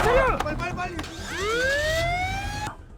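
An ambulance siren wails loud and close with a rising, sweeping tone that holds steady, then cuts off abruptly near the end, with brief voices at the start.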